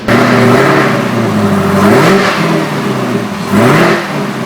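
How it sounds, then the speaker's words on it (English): A modified Chevrolet ZL1 Camaro revs loudly nearby, its engine note rising and falling through a couple of throttle blips over a steady rumble. "This is a ZL1 Camaro that's been modified, again by Hearst Corporation."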